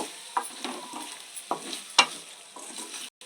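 Ginger garlic paste is stirred into cooking masala in a pan, giving soft scrapes and light clinks of a spoon over a low, quiet sizzle.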